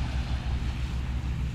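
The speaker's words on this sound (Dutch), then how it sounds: "Dat is de ferry naar het eiland." A ferry to an island passes on open water, heard as a steady low rumble of engine and hull beneath wind buffeting and wave wash, continuous and moderately loud throughout.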